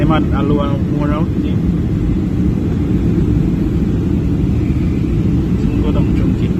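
Steady, loud airplane rumble fills a passenger jet cabin as it descends on a flight from Fort Lauderdale to Montego Bay, Jamaica, with a voice briefly speaking near the start over the unbroken drone.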